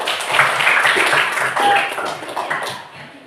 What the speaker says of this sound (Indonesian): Kasih tepuk tangan untuk Seti